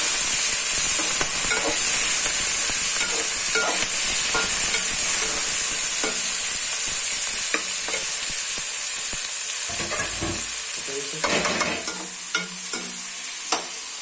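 Green chilli, tomato, onion and green onion fry in a pan with a loud, steady sizzle and hiss, broken by scattered stirring scrapes and clinks, close up with no voices.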